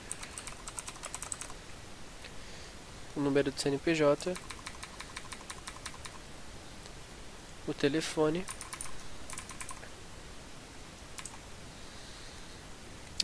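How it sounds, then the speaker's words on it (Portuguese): Quick bursts of clicking keystrokes on a computer keyboard enter supplier details into a Java inventory-control program. The taps come in short runs separated by pauses, and a person talks over part of the typing. "digitando o nome do fornecedor"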